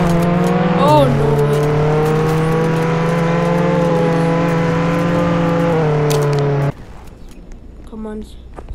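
Loud, sustained engine hum from a Bugatti Bolide driving in Roblox Jailbreak. A brief pitch blip comes early, then the tone holds steady for several seconds before cutting abruptly to a quieter background.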